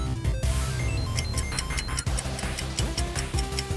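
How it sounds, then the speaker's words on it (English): The 1979 Lunar Landing arcade coin-op game gives off dense electronic beeps, ticking pulses and tones, loud and continuous, with no talk. "It is Lunar Landing, an arcade coin-op game."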